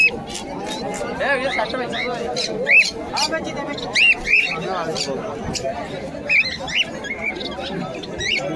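Pigeons and doves, including a pair of white doves, at the Beldanga bird market, giving scattered chirps, squawks and squeaks over a busy murmur of crowd noise and people talking.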